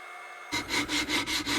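Wood sanded lightly by hand to remove marks, a quick run of about six rhythmic back-and-forth rasping strokes, close and clear after a short silence.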